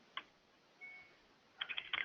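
A computer keyboard taps out a few soft keystrokes, first a single isolated click and then a quick cluster near the end, faint and close in a quiet room.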